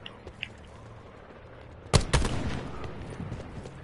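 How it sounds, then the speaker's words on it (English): A burst of gunfire cracks out about halfway through, several close shots in quick succession fired at an oak on a roof, following a quieter stretch with faint distant pops and a low rumble. "He's shooting at the oak on the roof."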